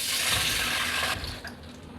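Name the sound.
pouring ghee into a pan for kesari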